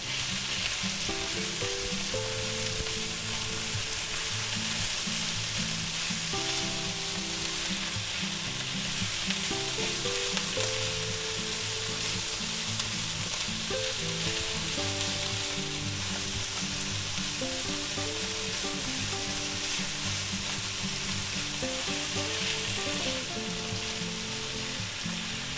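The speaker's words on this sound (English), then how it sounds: "let's go ahead and add our ham in. We'll give that a stir" Diced ham frying and being stirred in a pan for a breakfast quesadilla, a steady close sizzle that runs throughout with repeated scraping strokes of the stirring utensil.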